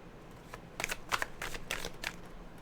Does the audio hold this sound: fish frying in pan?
no